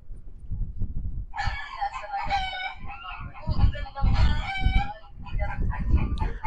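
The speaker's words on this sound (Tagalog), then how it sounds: "Ang ingay ng manok." A rooster crows repeatedly, loud and close, with clucking between calls and a few voices murmuring underneath.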